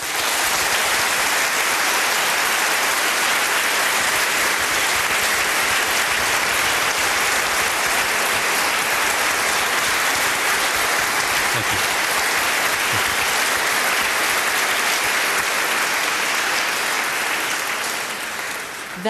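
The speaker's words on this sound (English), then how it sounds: "give the audience an opportunity to applaud" A large debate audience applauds in a long, dense, sustained wave of clapping that holds steady for many seconds before tapering off slightly at the end.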